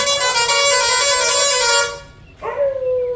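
A long, loud car horn blares steadily, fades out briefly, then sounds again with a second sustained honk; no talking.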